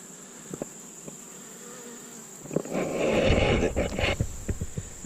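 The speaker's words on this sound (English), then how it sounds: "look at all those bees down in there" A dense insect buzz swells in after a quiet start, with a few sharp clicks and knocks scattered over the droning hum of bees close by in a hive being inspected.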